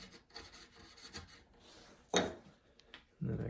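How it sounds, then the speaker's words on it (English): A chisel pares the end of a small wooden kumiko strip, a quiet, close rasping scrape with a sharper cut partway through, surrounded by faint workshop rubbing and handling noise. "chisel off the end of this."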